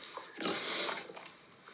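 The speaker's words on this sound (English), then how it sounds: "Pigs grunt." A pig grunting and snorting up close, a short burst of rough, breathy noisy sounds with a louder middle, alone without talk.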